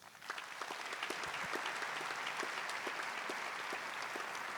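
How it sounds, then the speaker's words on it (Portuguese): A Catholic congregation at Mass breaks into sustained applause, a broad, even roar of many hands clapping at moderate distance that swells quickly and holds steady. "Vamos aplaudir isso?"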